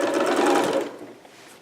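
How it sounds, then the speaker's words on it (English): A sewing machine backstitches over earlier stitching on a Vogue 8280 garment, giving a short, close, steady whir that lasts under a second before it stops. "Going to do a little stitch over my previous stitching"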